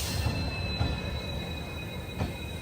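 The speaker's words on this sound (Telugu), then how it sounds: "వావ్, ఒక డీజిల్ లోకో." A diesel locomotive train rumbles steadily with a low heavy drone and faint high wheel squeal, heard from a platform at moderate distance.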